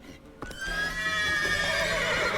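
Horses neigh and whinny in a stable in The Witcher 3, a loud, close, drawn-out cry rising after a short thump and carrying over a steady background.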